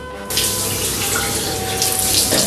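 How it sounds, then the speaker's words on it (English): A cold shower bursts on suddenly and keeps running, a loud steady hiss of spraying water close by with no talk. "Have a 10-second cold shower."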